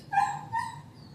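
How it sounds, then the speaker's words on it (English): Puppies whimpering and crying in two short, high, wavering whines, fairly faint and indoors, with no one speaking. "I don't know if you guys can hear my puppies crying."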